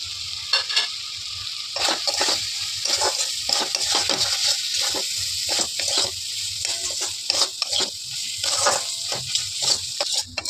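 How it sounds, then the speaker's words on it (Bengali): Ground turmeric, Kashmiri chilli, cumin, coriander and garam masala stirred in hot oil for aloo dum, with a steady sizzle and frequent rhythmic scraping strokes of a spatula against the pan, close and clear. "এবারে এটাকে ভালো করে নাড়াচাড়া করবো তেল ছাড়া অবধি।"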